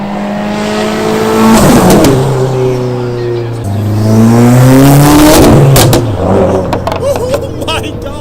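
A Subaru WRX STI fitted with an ETS exhaust revs hard and close by, its engine note rising and falling in two long sweeping pulls with a raspy, throaty tone. Faint voices sound underneath.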